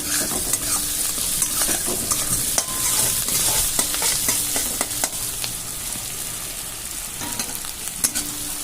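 Minced chillies fry in a pan as a spatula stirs and scrapes them, giving a continuous close sizzle broken by irregular clattering strokes. No one speaks.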